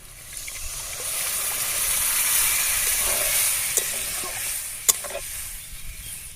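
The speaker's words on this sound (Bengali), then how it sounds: "এবার আমি এই জলটা দিয়ে দেবো" Water hits tomato paste in a hot pan for an egg dish, giving a steady sizzling hiss that swells and then settles, with a couple of faint clicks of a utensil.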